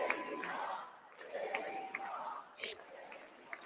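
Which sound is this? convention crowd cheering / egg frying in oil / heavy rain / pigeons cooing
convention crowd cheering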